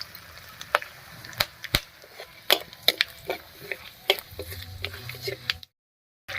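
Dry red chillies, whole garam masala and whole cumin seeds crackle in hot fish-frying oil, popping in sharp, irregular snaps over a faint sizzle before cutting to silence.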